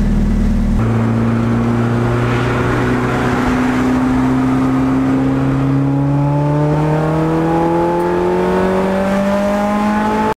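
Honda Integra engine running on the block, revving up with rising harmonic tones that climb steadily, loud and close with a continuous mechanical whir and no talking.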